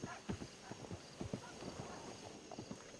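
Horse hooves clip-clop at a steady walking rhythm in the Red Dead Redemption video game, faint and continuous, with a soft background hum.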